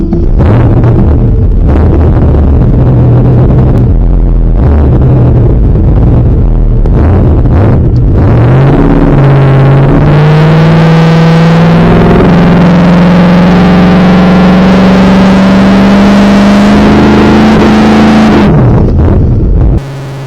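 Ford Mustang engine revving against the footbrake to build boost, loud and close with heavy wind buffeting, climbing to a sustained high-rpm drone that holds steadily, then drops off sharply near the end.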